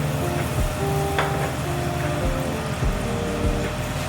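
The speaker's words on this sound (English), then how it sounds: "we get our saute pan, nice high heat, a little extra virgin olive oil" A sauté pan of extra virgin olive oil sizzles over high heat while lamb is cooked, a dense close frying hiss with a few clinks and knocks from the pan and utensils, no talking.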